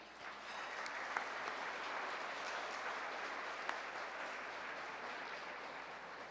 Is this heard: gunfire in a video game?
no